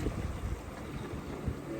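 Steady wind rushes and buffets the microphone aboard a sailboat running downwind in quite windy conditions, a constant broadband roar with low gusty rumbles and no voices.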